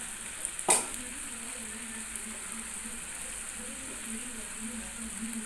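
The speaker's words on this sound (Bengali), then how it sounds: "এবার সমস্ত মশলা দিয়ে ভালো করে কষিয়ে নিতে হবে।" Spices fry in oil for a pointed gourd curry, making a faint steady sizzle with one sharp clink of a utensil against the pan near the start, and no talk.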